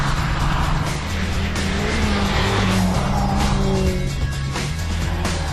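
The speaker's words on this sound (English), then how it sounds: "Winding up for a lap time to set for the Lancia Delta" A Lancia Delta Integrale is driven hard on a fast track lap, loud close engine roar holding high revs and shifting pitch, with tires squealing through the corners.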